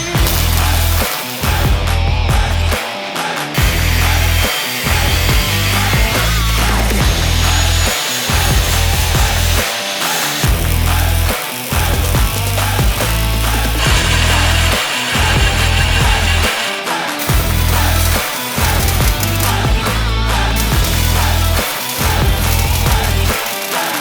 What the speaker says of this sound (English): we're gonna add a little scrap material to it, smooth it out, and weld it on